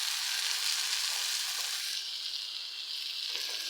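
Dried shrimp and onion fry with spices just added, giving a loud, steady close sizzle that eases a little midway, with no talking.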